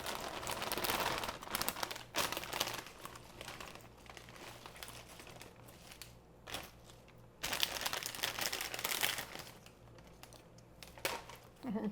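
A 5-ounce plastic bag of spinach crinkles and rustles as it is handled in a kitchen, with intermittent crackling bursts, fairly quiet, while a person talks at times.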